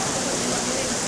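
Steady rain pours during an outdoor festival, a dense even hiss of drops filling the scene without a break.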